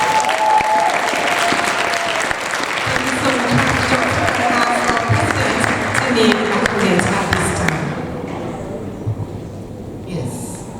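A large conference audience applauds steadily for several seconds, a dense wash of clapping that fades out toward the end.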